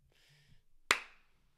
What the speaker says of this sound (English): Apologize for the clap. That was probably really loud.